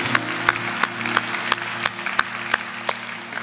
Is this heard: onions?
no